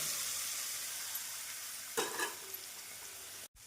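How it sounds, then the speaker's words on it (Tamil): Chopped onions sauté in oil over medium flame, continuous sizzling and frying, loud and close, with a burst of stirring noise midway and a brief cutoff near the end. "வெங்காயத்தை மீடியம் ஃப்ளேமில் நன்றாக வதக்க வேண்டும்"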